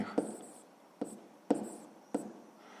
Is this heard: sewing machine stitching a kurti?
no